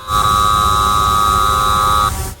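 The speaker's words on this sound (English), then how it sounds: "Then we have a buzzer." A steady, loud electronic buzzer tone sounds continuously for about two seconds, then cuts off abruptly. No one speaks.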